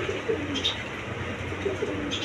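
A pair of pedigree Gola pigeons coo nearby, repeating soft, throaty rolling phrases in a loose rhythm, with a few higher chirps from other birds in the background.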